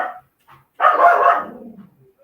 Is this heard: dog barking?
yes